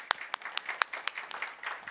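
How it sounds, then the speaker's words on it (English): Sparse applause from a conference audience at a Nordic meeting on digital media and children, a handful of separate claps popping out in a loose, uneven rhythm, fairly faint and brief. "I want to applaud that."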